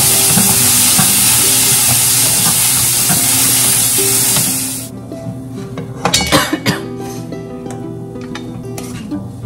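Bitter gourd and potato frying in a pan with turmeric: loud broadband sizzle for the first half, then it drops off and sharp scraping and clinks of a spatula stirring against the pan take over.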